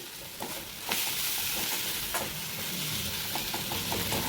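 Fenugreek leaves frying and stirred in hot oil in a wok, with a continuous close sizzle punctuated by scraping stir strokes and light utensil clicks, no voices.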